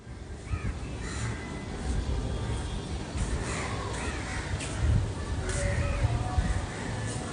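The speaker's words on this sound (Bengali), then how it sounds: "সব কাগেলে এক জায়গায় গিয়ে জড়ো হচ্ছে।" Crows caw while gathering at dusk, several harsh calls spread across the clip at moderate distance over a steady rushing background of wind and rustling leaves.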